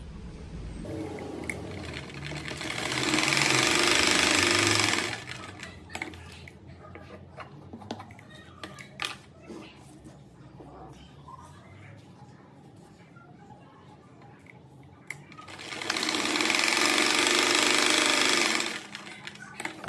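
A sewing machine runs in two loud sustained bursts, stitching small fabric scraps together into a rug, with quieter handling and fabric noise in between.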